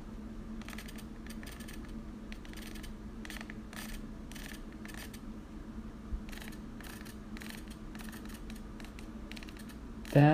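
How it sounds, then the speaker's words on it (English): Panasonic G85 camera lens aperture motor making faint repeated ticking and whirring bursts in short clusters over a steady low background hum, quiet and close, ending with a brief louder knock. "noise of the aperture changing on this,"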